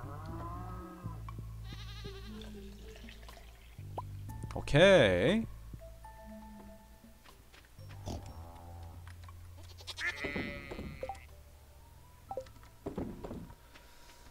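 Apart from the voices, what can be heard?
goat bleating in Stardew Valley video game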